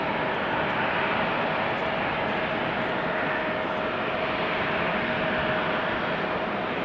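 An Embraer jet at Amsterdam Schiphol Airport gives off a steady, broad engine roar, loud and continuous throughout with a faint whining tone above it, and no talking.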